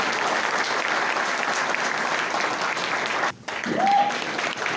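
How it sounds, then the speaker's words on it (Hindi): An audience gives sustained, loud applause that continues evenly, with a brief dip and a short whistle near the end. "एक बार और जोरदार तालियां हो जाए"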